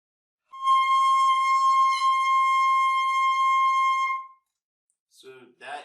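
A single sustained saxophone note in the altissimo register, key A played with the left hand only, held steadily for about four seconds with one slight wobble, then a voice speaks briefly.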